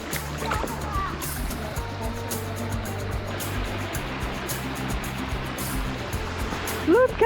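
A waterfall in lush natural greenery roars as steady broadband rushing water, continuous and fairly close, with brief vocal sounds breaking in near the end.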